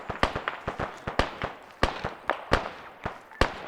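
AR rifle fire in the military game Arma 3 rings out as a rapid, irregular string of sharp cracking shots, some in quick pairs, loud and close with no talking.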